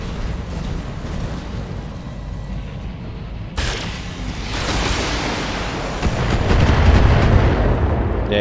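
Heavy mech weapons blast repeatedly in the BattleTech video game, a dense rumbling barrage of booms and impacts that swells louder toward the end with no voices.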